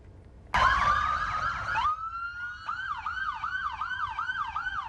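Police and ambulance sirens wail close by in an escort procession for a fallen sheriff's deputy. One siren cuts off and another starts a fast rising and falling yelp, with no talking.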